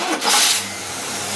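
A boat engine fitted with a Carter AFB 9772 750 CFM carburetor with electric choke runs close and loud, a steady roar that surges briefly at the start and then settles into an even drone.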